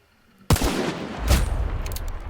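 A loud, sudden gunshot from a firearm in the video game Hunt: Showdown breaks a quiet moment, followed by a ringing boom and a second report about a second later.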